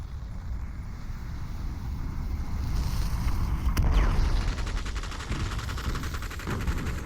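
Gunfire in a Population: ONE match, including DX4 shots coming from the side, crackling at a moderate distance over a steady low rumble, with one sharp crack standing out in the middle.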